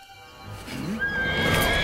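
A horse gives a loud, close whinny that rises and wavers, with hoof clops and stable movement around it and no speech.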